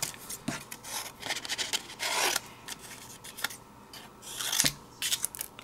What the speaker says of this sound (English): I'm also going to cut a little mat, just for a little background